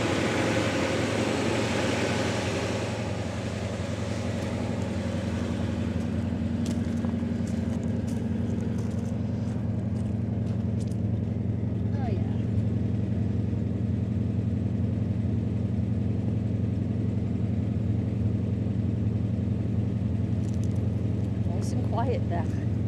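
A 1978 Plymouth Volare Road Runner idles through dual exhaust with a smooth, steady low rumble, moderately loud and even throughout, with occasional faint voices in the background.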